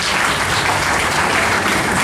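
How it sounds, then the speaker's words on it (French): A crowd at a graduation ceremony applauds loudly and continuously, a thick, even roar of clapping filling the room with no voices over it. "Madame Joseph Antoinette Théorville, sur votre applaudissement, s'il vous plaît"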